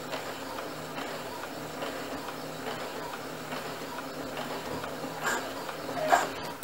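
A home sewing machine stitching a fabric face mask, running in a steady rapid ticking rhythm at moderate loudness, with a small knock near the end as it stops.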